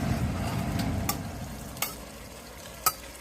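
Pasta masala being stirred and fried in a pan, a steady low sizzle running throughout with a few sharp clinks of the spoon against the metal pan.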